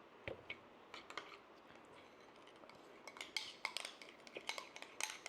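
A spoon clinks and scrapes against a bowl while homemade rice cream is mixed, in irregular light taps and scrapes that grow busier toward the end, close and fairly quiet.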